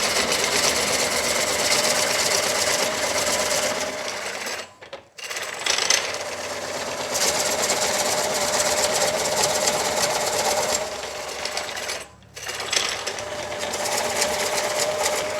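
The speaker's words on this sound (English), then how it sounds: "And my lathe is a light lathe. If I chose to, I could easily stall the motor out." A light wood lathe runs under load while a coring tool cuts into a bowl blank of moist wood, giving a continuous loud mechanical whir and grinding with two brief drop-outs where the cut eases.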